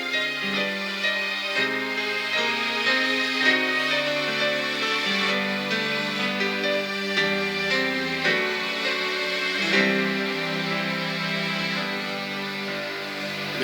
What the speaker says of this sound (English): if I play the piano and I kind of articulate passages, these strings take a little while to come in because they're very expressive.